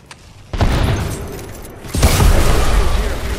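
Grenade explosion in a first-person shooter video game: two booming blasts about a second and a half apart, the second longer and rumbling, with little talk around them.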